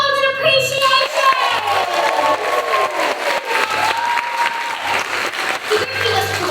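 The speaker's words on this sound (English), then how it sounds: "the audience jumped to its feet and roared in appreciation!" A theatre audience at a musical breaks into loud, sustained applause and cheering that fills the space, with voices and shouts mixed into the dense clapping throughout.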